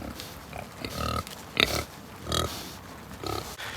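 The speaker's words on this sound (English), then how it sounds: "She's a great pig and we love each other very much, but this is Ellie" A pregnant sow grunts on a Texas homestead farm, several short close grunts spaced unevenly across the moment with a louder burst midway.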